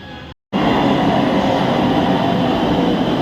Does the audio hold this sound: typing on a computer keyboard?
no